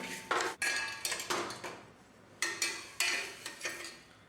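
Raw rice for sambar powder dry-roasts in a pan, stirred with a metal spoon that makes a series of sharp scraping and clinking strokes in uneven bursts, close with no talk.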